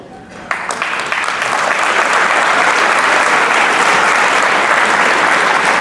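A keynote crowd in a high school venue breaks into applause: after a quieter moment, clapping surges abruptly and swells into a loud, dense, sustained roar of many hands.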